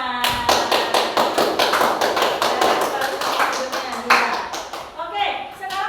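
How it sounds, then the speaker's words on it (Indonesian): Rhythmic group clapping in an elementary classroom during a social-emotional learning lesson, steady repeated claps in unison for several seconds with voices speaking and calling out over them. "Ya, beri tepuk tangan untuk kita semua."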